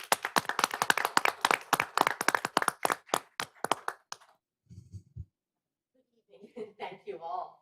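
A township board meeting breaks into applause, a burst of many hands clapping in a room that thins out and stops after a few seconds before a voice speaks.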